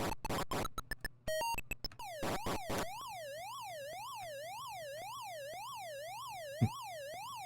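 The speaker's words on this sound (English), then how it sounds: "That siren sound." A synthesized siren from an Atari 2600 video game follows a few short electronic blips, then wails up and down in a steady, evenly repeating sweep that runs on alone at moderate volume.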